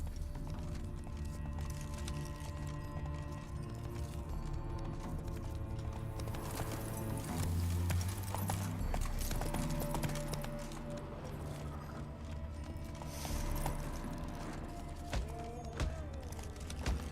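Horse galloping in The Witcher 3 video game: rapid, steady hoofbeats drum along with game music and ambience throughout, without speech.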